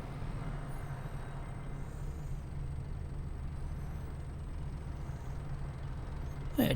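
A JCB vehicle reverses in Farming Simulator 22, giving a steady low engine drone with a constant hum throughout and a brief louder burst at the very end, with no talk.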